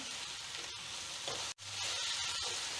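Potato fry sizzling in a pan as it is stirred after salt goes in, a steady close frying hiss with a scraping stir and a brief gap midway.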